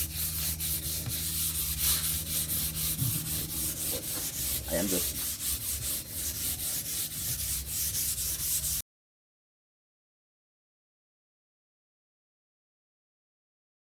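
Steady scratchy rubbing of sandpaper by hand on an old wooden dresser, continuous back-and-forth strokes close up, with a few brief words spoken partway through.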